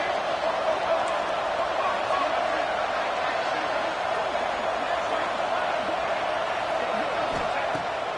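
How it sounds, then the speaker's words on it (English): Dense, steady roar of a packed college football stadium crowd during a Texas Tech home game on third down, loud and continuous with no letup. "The crowd electric, trying to help Tech on this third down."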